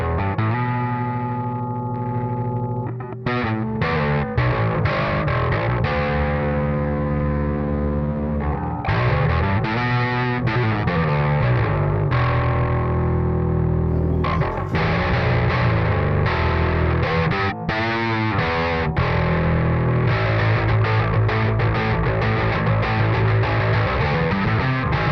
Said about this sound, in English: So next we're going to go to the distorted tone.